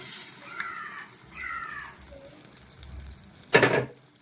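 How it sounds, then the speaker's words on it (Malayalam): Cooked lentils are tipped into a pan of sizzling masala, giving soft hissing and frying crackle with a sharp splashy burst near the end, fairly quiet overall and without talk. "ഇനി നമുക്കിതിലേക്ക് നമ്മൾ വേവിച്ച് വെച്ചിരിക്കുന്ന പരിപ്പ് ചേർത്ത് കൊടുക്കണം"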